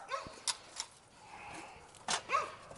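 Puppies give a few short barks and soft whimpers nearby in a home during a heat pump installation, scattered yips at intervals over a quiet background.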